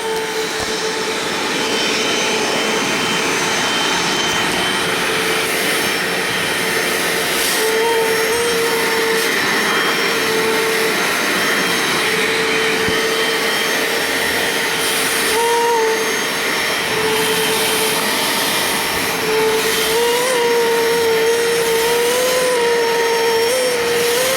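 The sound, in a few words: Bissell Little Green ProHeat carpet cleaner running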